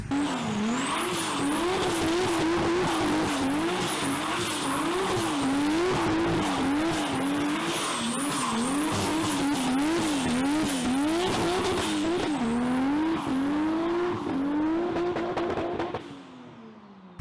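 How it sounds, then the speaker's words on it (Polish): A Nissan Skyline GT-R R32 engine revs hard for about sixteen seconds, its loud, rising-and-falling tone weaving through repeated throttle blips with a race-car edge and hints of tire squeal, then cutting off abruptly near the end. "silnik bardzo lubi obroty i niesamowicie brzmi"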